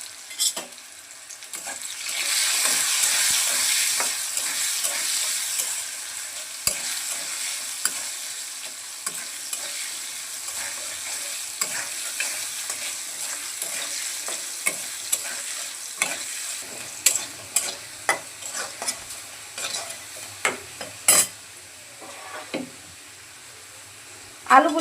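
Potato pieces with turmeric and salt fry in a pan for a Bengali vegetarian dish, sizzling steadily and fairly close, with frequent stirring knocks and scrapes growing sharper toward the end.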